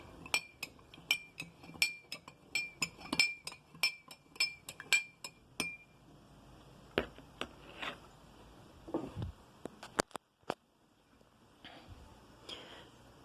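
A spoon stirs salt into water in a glass, ringing out in a fast, steady run of bright clinks for several seconds, followed by a few scattered knocks and a softer shaking rustle, all close and with no talking.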